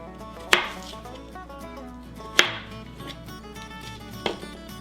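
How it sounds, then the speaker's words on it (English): A knife slices lengthwise through raw jicama on a cutting board, giving three separate crisp chops spaced well apart, close and fairly loud with quiet kitchen stillness between them. "Just going to cut them long ways here."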